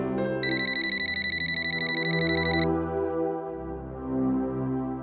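A landline telephone rings with a rapid electronic trill, a single long burst lasting a couple of seconds, then stops, leaving quiet room tone.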